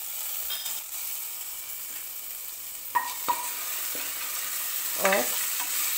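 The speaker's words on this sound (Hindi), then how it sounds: "और थोड़ा सा धीमी आंच पर हम लोग इसको थोड़ी देर के लिए पका लेंगे" Ginger garlic paste sizzles softly in a pan on low heat, with a spoon scraping and stirring it a few times, quiet and close with no talk.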